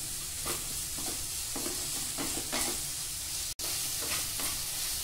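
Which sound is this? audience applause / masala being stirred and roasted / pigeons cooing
masala being stirred and roasted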